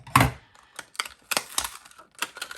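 Scissors cutting open a plastic package of washi tape, giving a series of crisp snips and crinkly plastic rustles, close and clear, with short pauses between cuts.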